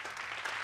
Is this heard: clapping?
yes